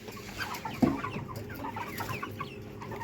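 A broiler chicken clucks in short, repeated bursts close by while being weighed on a scale, with a brief thump partway through.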